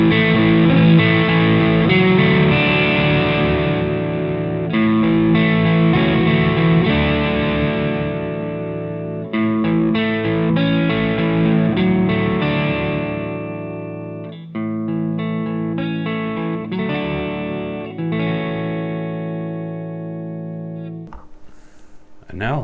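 An electric guitar through a Rothwell Switchblade distortion pedal rings out with sustained, overdriven chords and notes, loud and continuous, gradually sounding a bit cleaner toward the end as the guitar's volume knob is turned down.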